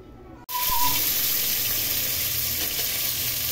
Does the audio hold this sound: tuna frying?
yes